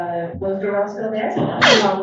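A person sneezes during a courtroom-style hearing, a sharp, loud burst near the end that follows a few seconds of people talking.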